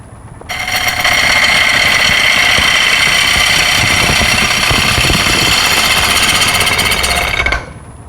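A chip and dip bowl spins on a wood lathe held at a lower speed, giving a loud, steady machine drone with gritty tool chatter that starts abruptly, runs about seven seconds without pause, then stops.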